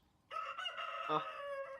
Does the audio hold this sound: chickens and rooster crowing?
yes